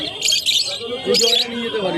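Birds at a pigeon market give two bright chirping bursts over someone talking nearby.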